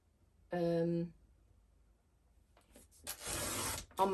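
A paper trimmer slices a thin sliver of card, heard as a short rasping slide after a brief tonal sound and a pause, ending with another scrape.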